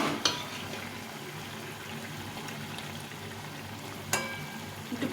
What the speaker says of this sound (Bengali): এখন এই ভেজে রাখা মাছগুলো দিয়ে দেবো।